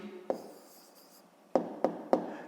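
A pen writes an answer to a fifth-grade math exercise, with soft scratching strokes and a few sharp taps against the surface, close and quiet, with no talking.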